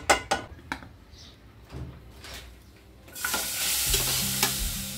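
Jaggery and coconut filling heated with ghee in a pot: a few scraping stirs and knocks, then a loud steady sizzle rises and continues close by.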